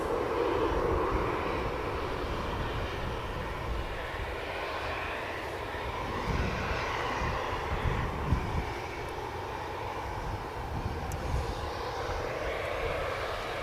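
A Royal Air Maroc Boeing 737 at Manchester Airport gives a steady, loud jet roar that holds throughout with a faint rise and fall, with no voices.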